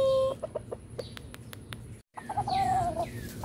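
Chickens cluck in a backyard coop during molting season, with several short clucks and a few higher calls heard close by, separated by brief quiet gaps.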